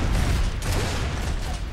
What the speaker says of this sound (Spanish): Fallo muchos disparos, eso es lo malo.